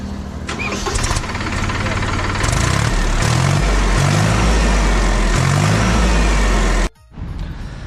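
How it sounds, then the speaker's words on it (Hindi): A Mahindra Yuvo Tech Plus 1515 farm tractor engine starts and runs in a loud, throbbing rumble with rhythmic pulses, then cuts out abruptly near the end before the sound resumes. "ट्रैक्टर की मैं आवाज़ सुनाऊंगा।"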